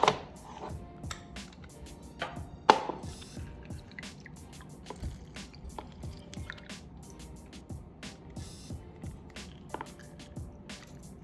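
Lemon juice drips and squishes into a bowl of blue cheese dressing made with mayonnaise and sour cream, giving soft wet splats and trickles close by, with no talking.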